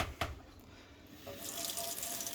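A kitchen faucet turned on, with a short click and then a loud, steady rush of running water that continues to the end, heard close and alone without talk.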